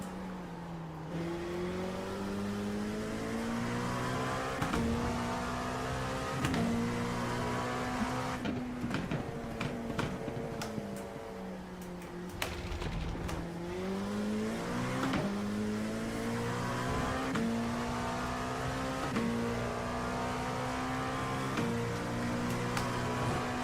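Race car engines in a racing video game at Daytona, droning and shifting pitch steadily as the car closes on and passes slower class cars, loud and continuous with occasional upshifts and no talk.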